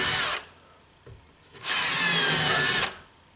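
A power drill drives a screw into sheetrock in two bursts, a short whine and then a longer steady high-pitched grind, close and loud with quiet gaps.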